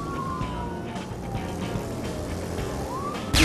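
A wailing police siren rises and falls over steady car engine and road noise while driving in the video game Ride to Hell: Retribution, continuous and fairly close throughout.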